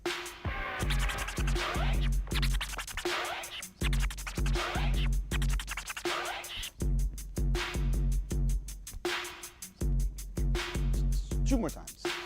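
A DJ works a rapid hyper chirp on a turntable over a looping drum beat. Fast, stuttering squeaks of the record are chopped into dense bursts, repeated in tight phrases with brief gaps.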